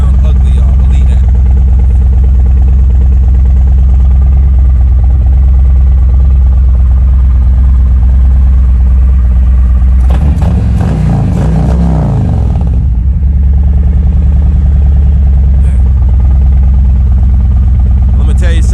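A 2021 Harley-Davidson Road Glide with Khrome Werks exhaust pipes runs with a loud, close, steady low rumble, punctuated by one hard rev of the engine midway, while someone talks over the idle.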